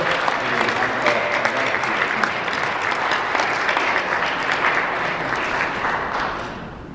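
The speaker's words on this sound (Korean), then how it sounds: "우리 한 번 더 힘찬 박수로" Vigorous applause from a congregation at a church New Year prayer breakfast, a dense, steady wash of many hands clapping that holds for several seconds and then gradually thins near the end.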